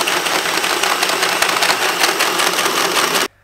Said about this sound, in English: I just hole sawed out this hole